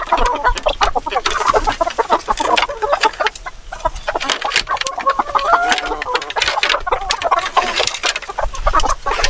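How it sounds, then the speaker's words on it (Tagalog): Heritage laying hens on a small farm cluck and squawk continuously after being disturbed, a dense, close chorus of overlapping calls with faint background voices. "Istorbohin natin yung mga nangingitlog na heritage chicken."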